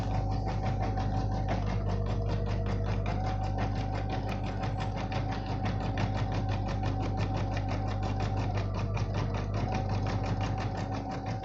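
A computer embroidery machine stitches a bangles design, a loud, fast, even needle chatter over a constant motor hum, running steadily for the whole stretch with brief shifts in tone.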